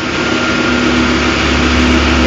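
A Caterpillar 12G motor grader's engine runs under hand throttle, climbing a paved road, as a loud, steady, close roar with a constant tone throughout.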